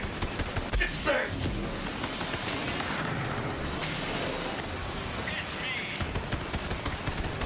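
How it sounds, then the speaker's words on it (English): Turret bullets firing in the video game Borderlands 3, a dense, rapid stream of small impacts and pops running throughout, with occasional brighter bursts layered over a constant busy rumble. "And let's shoot little turret bullets at them."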